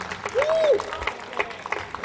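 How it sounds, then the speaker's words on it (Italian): Evening audience at an Italian variety show applauding the women present, a short burst of clapping with a brief whistle-like tone early on and a voice faintly over it. "fate un applauso fortissimo a tutte le donne che ci sono stasera"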